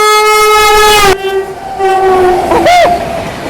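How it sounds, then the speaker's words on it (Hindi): A Patna–Gomti Nagar Vande Bharat Express sounds a loud, sustained two-tone horn up close, which cuts off abruptly and is followed by the rumble of the passing train and a second, shorter horn blast near the end. "पटना गोमती नगर वंदे भारत एक्सप्रेस।"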